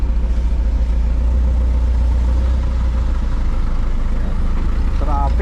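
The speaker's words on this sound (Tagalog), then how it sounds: "Traffic dito sa lugar namin." Street traffic from a third-floor rooftop: a steady low engine rumble of passing cars and trucks, continuous and moderately loud throughout, with a brief higher tonal sound near the end.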